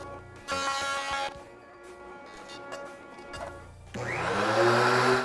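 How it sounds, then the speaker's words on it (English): A jointer surfacing rough cut cherry board blanks for kitchen cabinets, a loud whining motor roar that swells as the cutterhead bites the wood, dips between passes and rises again, with no talking. "I could then move on to the joiner and mark them up so that I could smooth them out"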